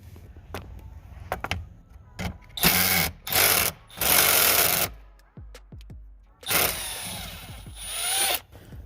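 A power tool backs out 7 mm bolts from the dash of a 2007 Chevy Malibu, with several loud whirring bursts of a few seconds each. Clicks and clunks of handling the parts come between the bursts.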